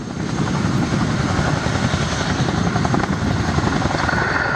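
A tandem-rotor Chinook helicopter flies a display at the 2015 Culdrose air day. Its heavy, continuous rotor thud and turbine roar stay loud and close throughout, with no voices.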